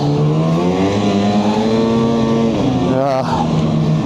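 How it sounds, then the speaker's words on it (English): A snowmobile engine roars steadily up close, droning and buzzing at high revs, with a short pitch swoop near the end as it accelerates. "this sled makes a beautiful noise"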